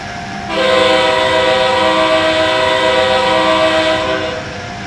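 An Amtrak Acela Express train in the video game Train Sim World 5 sounds a loud sustained horn chord for about four seconds, rising in abruptly and fading at the end, over low running rumble.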